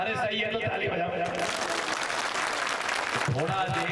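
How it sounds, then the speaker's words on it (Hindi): A crowd at a Lok Sabha 2024 election public rally in Sironj claps in a dense, sustained burst of applause, loud and close, with a voice over the start and end of it. "अरे सही है तो ताली बजाओ।"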